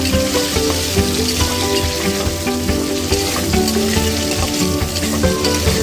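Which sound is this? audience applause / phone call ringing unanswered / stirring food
stirring food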